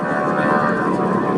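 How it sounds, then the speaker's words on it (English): Steady droning roar of a T6 Texan aircraft's radial engine just after getting airborne at an air show, loud and continuous over a short stretch. "First thing to mention is that very distinctive engine sound. This is a radial engine."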